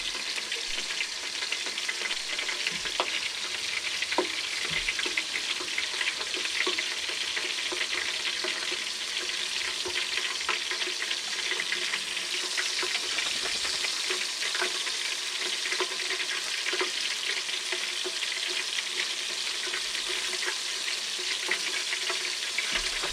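Deer sausage fries in a pan before being canned in hot lard, a loud, continuous sizzle with occasional light stirring sounds and no voices.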